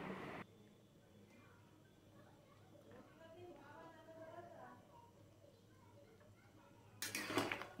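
Boiled potatoes and their cooking water tipped into a vessel to drain: a short, loud splashing gush near the end, after a stretch of quiet kitchen hum and soft clinks under a voice talking.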